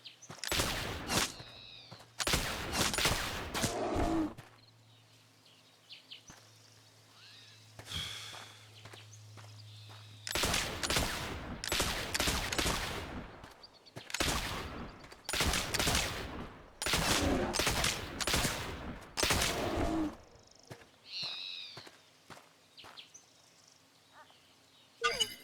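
Gunshots fired at a bear in the Oregon Trail video game come as short loud bursts separated by quiet gaps, with footstep-like rustles between them.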